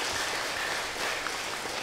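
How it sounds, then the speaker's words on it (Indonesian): Congregation in a church breaking into applause, a steady broadband patter of many hands clapping at once, sustained and fairly even throughout with no voices rising above it. "Mari kita tepuk tangan"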